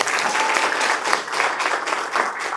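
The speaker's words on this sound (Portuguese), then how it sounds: "Salve de palmas." Audience applause at a motivational talk in Araraquara, São Paulo: steady, dense clapping from a crowd filling the room, sustained at even loudness with no speech.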